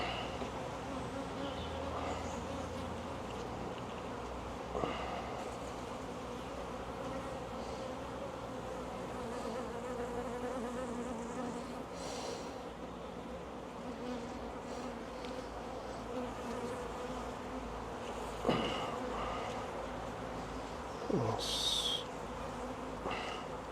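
Honey bees drone steadily inside an open beehive while the frames are checked for queen cells, a continuous low buzz with a few louder passes and brief knocks near the microphone.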